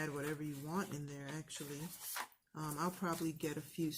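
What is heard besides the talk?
No everyday noises stand out.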